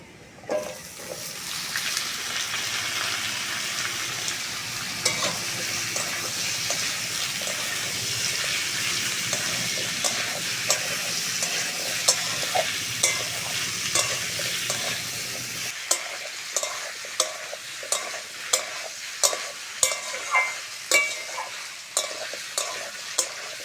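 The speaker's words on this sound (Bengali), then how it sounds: "পেঁয়াজের সঙ্গে ফুটি আর আলুটা ভালো করে কষে নিয়েছি।" Raw muskmelon and potato cook with fried onion in a pan, first under a steady sizzle, then with a long run of rhythmic spatula scrapes against the pan as the mixture is worked.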